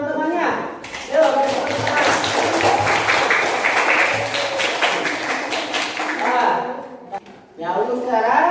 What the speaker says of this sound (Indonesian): Kasih aplaus untuk teman-temannya.